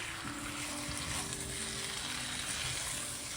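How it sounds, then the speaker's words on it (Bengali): Meat sautéing in a pan, a dense, continuous sizzle with faint stirring movement throughout, close by and steady, with no voices. "10 মিনিট কষাবো, বেশিক্ষণ কষানোর দরকার নেই।"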